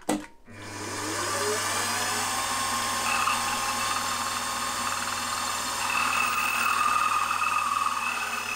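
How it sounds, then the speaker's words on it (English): After a brief click, a power drill whines steadily at a high pitch, drilling metal for tapping on a gear hobbing attachment housing, grinding continuously for several seconds close by with no voices. "So now I just need to drill and tap."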